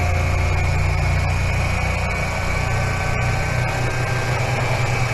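A DC motor test rig in a lab, powered from a DC supply and run up toward about 1900 RPM, gives a steady loud hum with strong low harmonics and a constant whine, with no talk.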